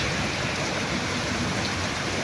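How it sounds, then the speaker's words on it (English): Steady rain pours down in Cebu in a dense, continuous hiss, falling evenly with no voices or other sounds breaking through. "It's raining."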